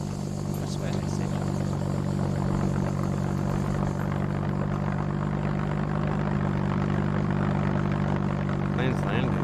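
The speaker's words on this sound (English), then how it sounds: "Plane's landing." A plane lands in the video game SCUM, its propeller engine droning loud and steady throughout, with a voice speaking over it.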